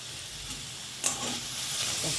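Green tomato chutney ingredients roast in oil in a pan with cumin, giving a soft continuous sizzle and hiss with a brief stir or clatter near the middle, close and fairly quiet.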